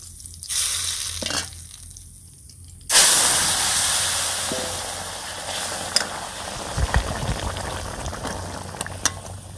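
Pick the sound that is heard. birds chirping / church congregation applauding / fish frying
fish frying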